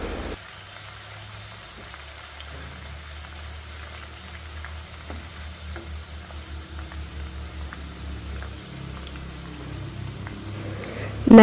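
Jackfruit chips frying in oil over a medium flame and stirred now and then, a steady soft crackling sizzle with faint bubbling, growing slightly louder toward the end.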